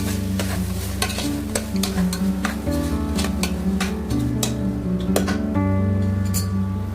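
Soaked basmati rice and green peas are stirred in a pan for pulao, with repeated sharp spatula scrapes and clicks and a light sizzle under louder background music.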